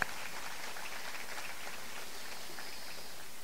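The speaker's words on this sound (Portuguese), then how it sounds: "muitos aplausos para a orquestra da Universidade do Estado de Santa Catarina" Audience applause for the Universidade do Estado de Santa Catarina orchestra at the World Peace Forum 2016 opening ceremony, a soft, steady wash of distant clapping throughout.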